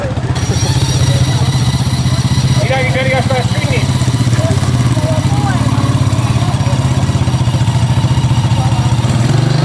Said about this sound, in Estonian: Tõepoolest pannakse mootorratas käima